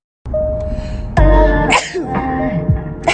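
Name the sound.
sneeze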